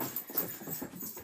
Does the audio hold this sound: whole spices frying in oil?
no